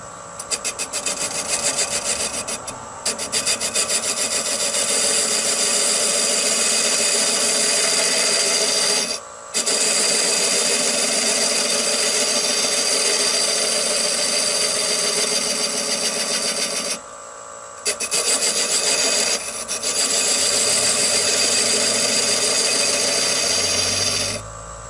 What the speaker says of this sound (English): I'm just going to use a 1/2 inch round nose scraper